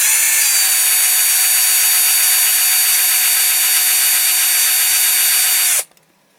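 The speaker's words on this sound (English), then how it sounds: "we do have to drill out these 2 rivets here to get the base of the cab off." A power drill whines steadily at high pitch, grinding through metal rivets on a Dinky Toys Big Bedford model truck for several seconds before cutting off abruptly.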